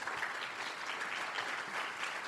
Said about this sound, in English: If you can give a big applause already now to thank them for